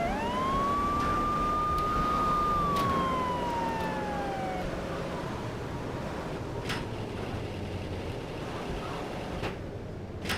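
Siren wail from an ambulance in the video game GTA3, a loud sweeping tone that rises and falls over the first few seconds, then fades beneath steady game traffic and engine noise.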